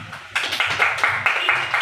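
Several people clap in short bursts with rhythmic hand slaps, fairly close, while voices murmur underneath.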